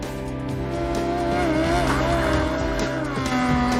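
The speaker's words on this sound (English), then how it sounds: "let me present this motorcycle sidecar professional racing rig, otherwise known as Sharkus Maximus" A motorcycle sidecar professional racing rig drives fast, its engine a sustained loud roar with shifting pitch and a tire-squeal whine, close and continuous throughout.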